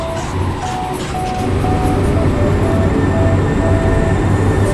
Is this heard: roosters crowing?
no